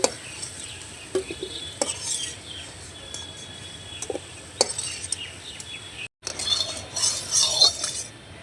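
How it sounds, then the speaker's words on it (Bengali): Fried potatoes being lifted out of a pan into a dish, giving a run of close, sharp utensil scrapes and clinks against metal and crockery, with a short silent gap and a brighter burst of clatter near the end. "আলুগুলো ভাজা হয়ে এসছে, তো এবার আমি তুলে নেব, পাত্রে তুলে নিচ্ছি"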